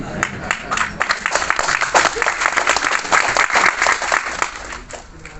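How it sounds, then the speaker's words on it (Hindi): Audience at a Holi gathering and comic poetry event in Yangon, Myanmar, applauding: dense, steady clapping from many hands fills the hall for several seconds, then thins and fades toward the end. "देखिए ताली बजाने का मन करे तो कंजूसी मत कीजिए।"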